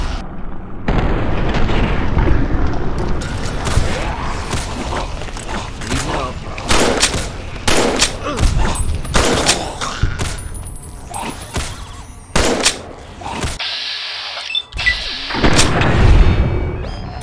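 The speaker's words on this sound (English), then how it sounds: "Incendiary grenade!" Incendiary grenade going off in Fallout: New Vegas, a loud burst among dense booming combat noise and gunfire that runs throughout, with a brief sharp hiss and crackle near the end and speech mixed in.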